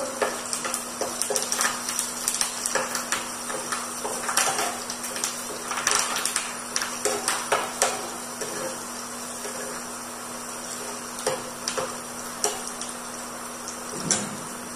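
Green chilies and fresh ginger frying in oil in a pan, a steady close sizzle with scattered crackles and occasional stirring scrapes running throughout.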